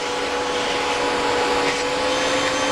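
A Singer Lazer Storm AS 01A vacuum cleaner runs during an airflow test, giving a loud, steady, unbroken motor-and-air roar with a constant whine throughout.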